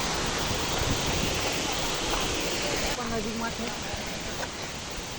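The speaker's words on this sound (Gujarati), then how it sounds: "આ બીજા નાના નાના ધોધ જોઈ શકો છો આગળથી આવે છે બહુ ઉપરથી." Small waterfalls pouring from high above on a monsoon hillside trail near Pavagadh, heard as a loud, constant roaring wash of water, with a brief voice breaking in partway through.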